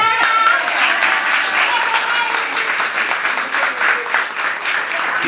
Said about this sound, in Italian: Dovete fare un applauso a Maria Grazia